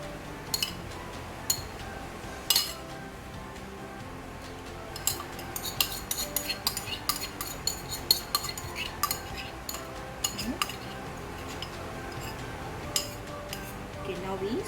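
A metal spoon clinks and scrapes against a pot as biryani gravy with cashews and raisins is spread over rice, scattered sharp taps in irregular bursts over a quiet background.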